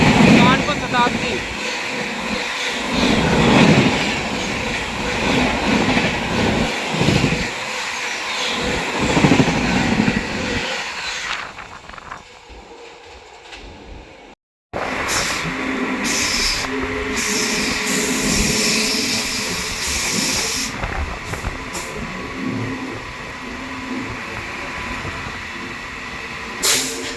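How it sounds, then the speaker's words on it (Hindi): An Indian passenger train running on rails near Khurja Junction, with steady rumble and clickety-clack of wheels, a brief quiet dip midway, then continuous close rolling noise with hiss; voices talk over it. "और अपनी ट्रेन पहुंच रही है खुर्जा जंक्शन।"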